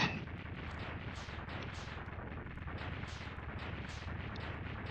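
Explosions in the Mega Man X2 video game: a rapid, continuous string of crackling blasts repeating evenly and fairly quietly, alone without voices.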